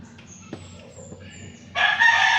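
Faint chicken sounds in the background, then a loud rooster crow bursts in near the end.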